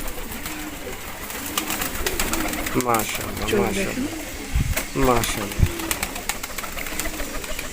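Pigeons coo in a loft with repeated throaty, rolling calls, a couple of them clear and close, over steady background noise while people talk nearby.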